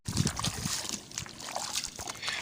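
Shallow canal water sloshing and trickling around the legs of someone wading through it in a village, with splashy bursts and steady dribbling close by, plus faint voices in the background.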